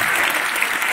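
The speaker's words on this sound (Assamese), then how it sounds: "এটা হাত তালি চিন্ময়ৰ কাৰণে" An audience at a student career-guidance session claps steadily, a dense, even burst of many hands close by with no pauses.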